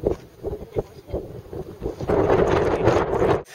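Wind buffeting the microphone at the summit of Haleakala on Maui, freezing and gusty, arriving in choppy bursts at first, then a loud, continuous roaring blast through the second half.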